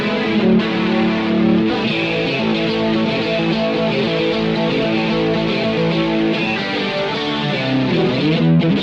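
An electric guitar plays a tone from a Boss GT-100 multi-effects unit, with distortion and a plate reverb with slightly increased pre-delay. A continuous, driven melodic line rings out alone for several seconds.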